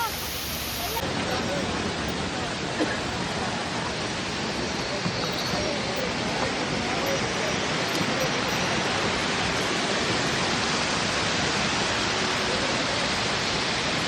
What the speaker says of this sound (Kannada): ನೋಡಿ ಇಲ್ಲಿ ಫಾಲ್ಸ್ ಇದೆ.